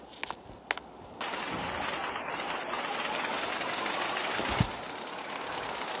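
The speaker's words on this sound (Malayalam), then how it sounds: "ഗൈസ് ഇത് മിലിറ്ററി ബോട്ടാണ്." A military boat's engine in the Roblox video game starts as a few sharp clicks, then a steady, even roar for several seconds before cutting off abruptly.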